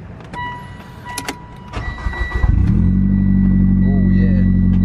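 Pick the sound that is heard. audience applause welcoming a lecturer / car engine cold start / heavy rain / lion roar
car engine cold start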